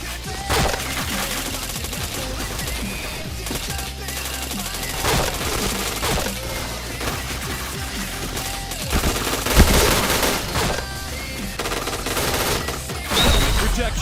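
Gunfire in a video game rattles in rapid bursts and single shots over a busy mix of game sounds, with a player talking now and then.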